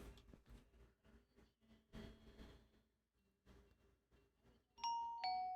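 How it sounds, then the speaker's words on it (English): After a few seconds of faint shuffling, two bright, clear electronic chime tones from a video game note block doorbell ring out in quick succession. "I have a doorbell up here."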